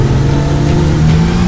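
A 2019 Kia Stinger GT engine hums at a steady, loud drone with a slight rise in pitch as the throttle opens, heard from inside the car.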